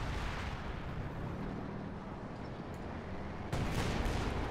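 Artillery fire in the WWII strategy game Company of Heroes 2, a dense continuous rumble of booming blasts with a sharper, louder burst near the end.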